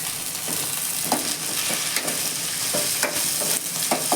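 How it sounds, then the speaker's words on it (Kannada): Onions frying in oil in a pan for a home-cooked mushroom biryani, an even close sizzle that runs throughout, with a few soft stirring scrapes and no voices. "ಸ್ವಲ್ಪ ಆಯಿಲಲ್ಲಿ ನಾವು ಈ ಥರ ಲೈಟಾಗಿ ಫ್ರೈ ಮಾಡ್ಕೋಬೇಕು"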